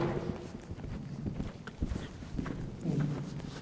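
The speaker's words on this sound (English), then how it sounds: "A really good strong canter to make sure he's got the confidence and the power." Rhythmic hoofbeats of a horse in a strong canter on soft ground at Keysoe, steady and moderately close, with some faint background noise.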